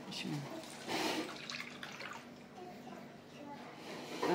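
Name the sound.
pouring water into a tin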